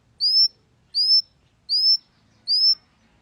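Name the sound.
pet bird calling nonstop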